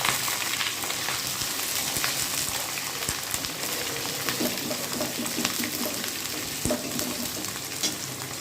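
Chopped capsicum and onion fry with ginger and garlic in hot oil, sizzling continuously at a moderate level with occasional stirring scrapes and clicks, and no talking.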